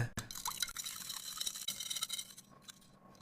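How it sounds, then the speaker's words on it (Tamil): Gems candies are dropped into water and stirred, giving close, small drips, plops and liquid swirling with light clinks, moderately quiet and ending in a brief hush. "இந்த ஜெம்ஸை தண்ணிக்குள்ள போட்டு கலக்கிற என்ன ஆகுதுன்னு பாருங்க"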